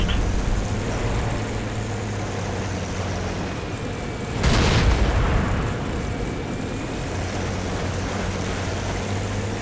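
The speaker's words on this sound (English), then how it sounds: "So I take another quick shot at the KV4." A tank cannon fires at a KV-4 in a tank combat game, one loud broadband blast at mid-clip rising over a steady rumbling engine and ambient background, with no talk.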